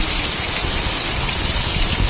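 Heavy rain pouring down in a steady, dense hiss, loud and close, with no break or variation across the moment.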